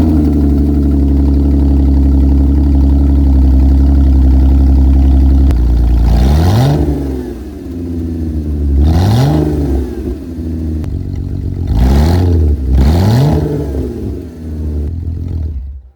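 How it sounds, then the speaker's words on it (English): A Porsche 911 engine running with no exhaust fitted: a loud, raw idle drones for several seconds, then four sharp revs climb and fall, each a rising-and-falling rasp, before it settles back to a rough idle. "We're about to crank it up for the first time with no exhaust."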